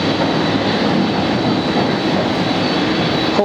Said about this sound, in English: So this aircraft is going for takeoff